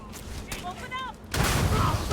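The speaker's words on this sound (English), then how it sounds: "Oh, I'm shooting with my cutter again." A cutter weapon fires in a video game with a sharp burst and a short whistling sweep, followed by a louder, dense crackling blast that keeps going to the end.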